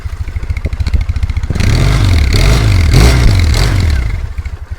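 A Triumph Bonneville motorcycle with its standard exhaust idles close by with a steady, even tick-over, and its level swells slightly in the middle of the stretch.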